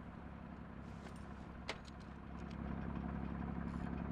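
A tank engine idles in the Gates of Hell game as a steady, low rumble that grows slightly louder partway through, with a brief metallic clink near the middle.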